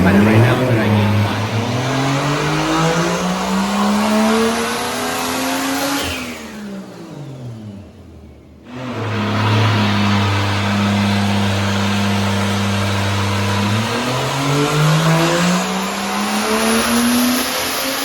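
A 2JZ-GTE engine in a Nissan S13 on a dyno at 14 psi boost roars loudly through a long rising pull, drops off sharply around the midpoint, then pulls again with steady high revs and rising pitch.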